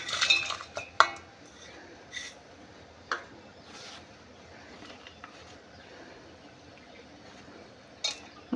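A ladle clinks sharply several times against a bowl as jaggery is mixed, quiet scattered metallic taps with pauses between them and no talk.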